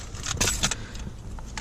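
A small bag full of keys jangles close by, giving a cluster of bright metallic clinks and rattles and then a few lighter chinks over a low background rumble, with no speech.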